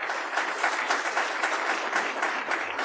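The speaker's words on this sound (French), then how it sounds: "Souriez et bien sûr sous les applaudissements légendaires de la profession." Sustained, dense applause fills a hall at an awards ceremony for regional property developers, steady and fairly loud for the whole stretch with no talking.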